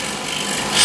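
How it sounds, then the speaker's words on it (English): A negative scraper works across the side grain of wood, giving a brief, close, dry rasping scrape that rises slightly at the end. "Side grain portion, again with a negative scraper"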